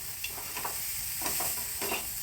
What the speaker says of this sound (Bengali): একটু আদা বাটা দিয়ে একটু নেড়ে দেবো